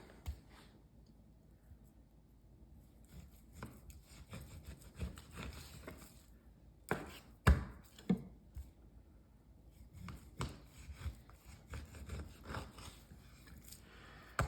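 Knife slicing through a whole top sirloin steak during a breakdown, quiet scraping and sawing strokes with a few sharper knocks on the board, no talking.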